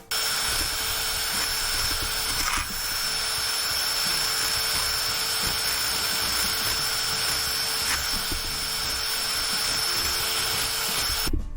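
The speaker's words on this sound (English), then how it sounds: "Any fleshy bits or material, you want to go ahead and grind it off." A steady, loud whining drill with a brush attachment grinds flesh off a deer skull cap, continuous with a harsh, buzzing texture, holding nearly constant level throughout with no talking.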